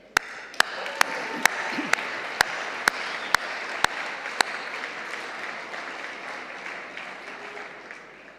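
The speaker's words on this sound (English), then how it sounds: "I want you to applaud yourselves" A youth volunteering community celebration audience applauds in a steady, dense wash of clapping that continues for several seconds, with regular sharp clicks punctuating it early on.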